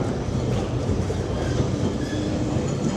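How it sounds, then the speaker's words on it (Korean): A tram rolls along a busy, traffic-filled street in Lisbon's old town, a steady low rumble and rattle of wheels on rails running throughout at close range, with no talk. "트램이 지나갑니다."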